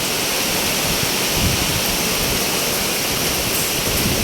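Loud, constant roaring typhoon wind rushes without pause, a dense broadband howl with no voices.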